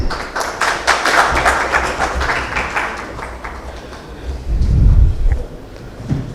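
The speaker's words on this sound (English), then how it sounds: "Can we have a round of applause, please?" Audience applause at a panel felicitation ceremony, a sustained wash of clapping with a low rumbling boom partway through, fairly loud and continuous.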